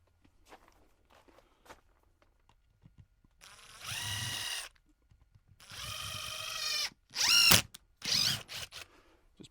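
An impact driver drives screws while a motion-sensor LED shop light is mounted in a crawl space: several short whirring, rattling bursts of uneven length, fairly quiet, with pauses between them.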